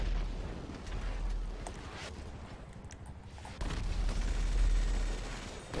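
Rocket-propelled grenade blast in a PS3 shooter, a low rumbling boom that swells near the end over dense game noise and gunfire, with loud sustained low-end energy.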